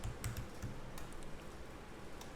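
Rapid clicks of a computer keyboard as someone types, a handful of close keystrokes over a faint steady background hiss.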